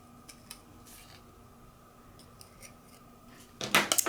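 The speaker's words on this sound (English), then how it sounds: "I'm just using my X-Acto knife to get any pieces that are just chilling in there out." An X-Acto knife picks small pieces out of an acrylic blank with faint scattered ticks and scrapes, then a louder burst of scratchy clicking near the end, close and without talk.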